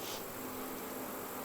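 A busy beehive in a fall bee yard gives off a steady, even hum of many bees buzzing close by, continuous and unbroken from start to finish.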